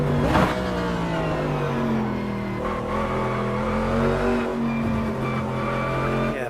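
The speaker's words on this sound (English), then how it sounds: "Very low exhaust note." Race car in the Automobilista 2 racing game with a deep, low exhaust note, engine revving steadily and loud throughout with shifting pitch.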